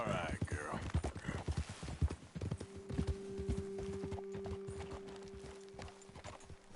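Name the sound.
horse hooves clip-clopping, video game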